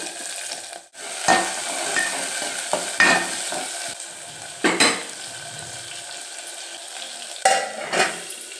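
Garlic, mustard seeds, cumin, onion and green chillies sizzle in hot oil in a pan, with a steady fry broken by repeated sharp stirring scrapes and clinks of a spoon against the pan.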